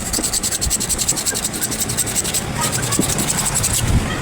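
Rough, rhythmic scratching of coarse sandpaper rubbed back and forth on a surface, close and loud with a steady gritty texture.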